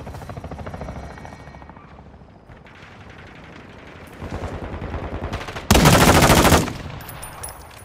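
Gunfire crackles in Call of Duty Modern Warfare II Invasion mode, with rapid bursts of automatic fire near and far over a rotor-like hum, ending in one very loud close burst.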